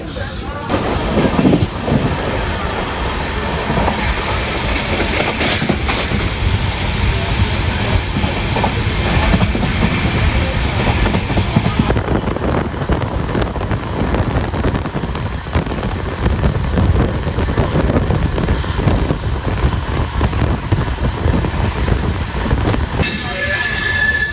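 A Trichy–Trivandrum Intercity passenger train with LHB coaches rumbles steadily along the rails in Kerala with rhythmic clatter and occasional wheel squeal, loud and continuous throughout, with wind buffeting the microphone.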